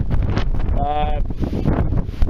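Outdoor wind buffets a camera microphone during a hunt in Utah territory, producing a loud, continuous low rumble and roar, with a brief voice-like tone briefly surfacing in the middle.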